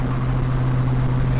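Loud, steady idle of a Plymouth car engine running on Holley Terminator fuel injection, a deep continuous drone with a strong low hum that holds level throughout, close by with no talk.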